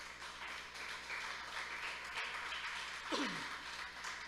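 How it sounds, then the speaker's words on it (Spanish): Quiet applause from a church congregation during a sermon, a soft continuous patter of many hands heard at a distance, with a brief voice-like sound sliding in near the end. "¿Cuánto le aplauden al Señor por esto, hermanos?"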